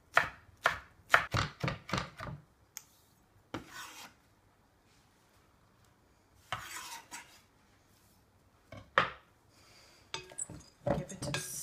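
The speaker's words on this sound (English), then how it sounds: "I'm just going to chop up my mint and add it to my bowl of wild herbs." Mint being chopped with a knife for a bowl of wild herbs: quick bursts of sharp blade taps on a board, spaced into several short runs with quiet gaps between, close and crisp.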